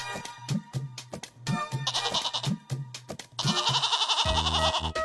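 A cartoon goat bleating: a loud, drawn-out bleat rises near the end over an earlier run of rhythmic thumping beats, and no one speaks.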